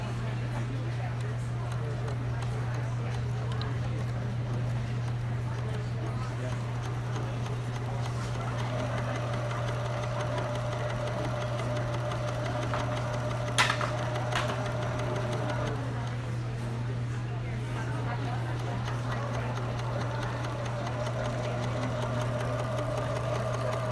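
A sewing machine stitching silk runs at a steady, continuous hum for over twenty seconds, close and even, with a faint brief tick partway through and no talking over it.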